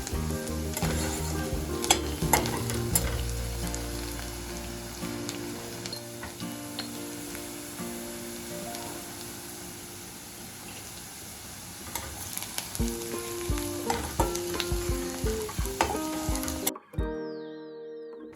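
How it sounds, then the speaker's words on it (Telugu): Onions fry in a pan for a curry until golden. A loud, steady sizzle is stirred now and then, and it drops away abruptly near the end. "కూరకు మాత్రం ఉల్లిపాయలు కొంచెం గోల్డ్ కలర్ వచ్చే వరకు మాత్రం వేయించుకోవాలండి"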